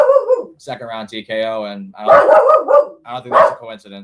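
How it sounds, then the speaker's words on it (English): A dog barks in bursts in the background while someone talks steadily over it, the barks partly buried under his voice. "That's my dog barking."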